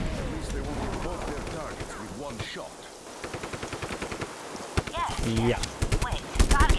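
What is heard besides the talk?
machine gun firing in the video game Just Cause 3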